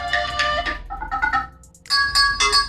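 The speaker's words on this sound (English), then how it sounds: "if you don't like the ringtone that this thing has out of the box right here" A bright electronic ringtone from a Cubot X30 phone plays a short melodic pattern of chiming tones, pausing briefly before the tune repeats, close and clear.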